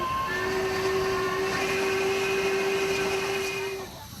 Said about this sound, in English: Then we tram it back to the surface and back to the train